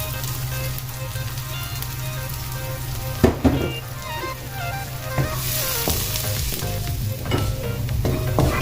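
Four chopped garlic cloves and a small chopped onion fry in a pan for Chinese-style salt and pepper spareribs, giving a steady crackling sizzle with a few sharp clinks from stirring.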